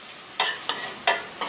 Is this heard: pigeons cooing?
no